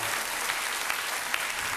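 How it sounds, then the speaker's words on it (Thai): A concert audience applauds in a dense, steady roar of clapping that is loud and continuous for the full moment, with no clear voices above it. "ขอเสียงปรบมือให้อีกครั้งหนึ่ง"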